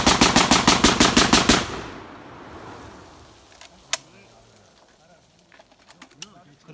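Barak 99 S rifle firing one long rapid burst from two linked 20-round magazines, a dozen loud close cracks in fast rhythm, then quiet outdoor air with birds and a couple of scattered later sharp sounds.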